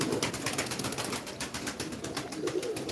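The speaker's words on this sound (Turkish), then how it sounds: "Bunlar kart olan kuşlardır" Old pigeons coo softly amid a steady wash of background noise, their low murmuring calls faint and continuous across the short stretch.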